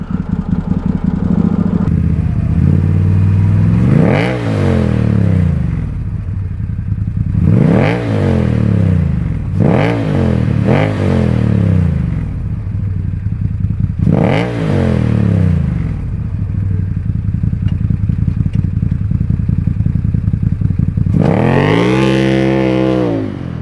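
A Can-Am side-by-side's engine revs hard in repeated loud bursts, rising and falling as it is goosed up a driveway, with a final long climb at the end and no talking.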